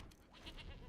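A person imitates a goat's bleat, giving a short wavering nasal call of a few pulses, close and fairly quiet, with no other talk.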